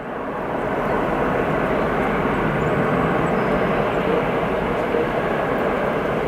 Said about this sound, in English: LA Airlines departing to Krakow